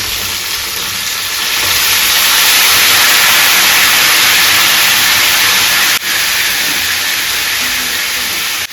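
Fish curry poured into a hot pan sizzles loudly, a dense continuous hiss that swells after the first second and holds steady, with a brief dip near the end.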